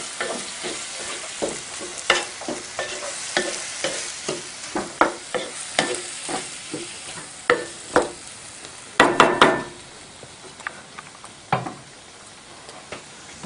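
Jeera rice and red lentils are stirred in a pot with a spoon, giving a steady run of close scraping and tapping strokes over a faint sizzle, briefly louder near the end, with no talking.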